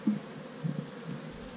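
Honey bees rise from an opened hive of Italian bees, giving a low, droning buzz that comes in a few soft swells, fairly quiet and steady, with no talking.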